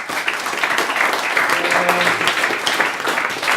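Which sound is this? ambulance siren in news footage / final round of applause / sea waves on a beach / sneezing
final round of applause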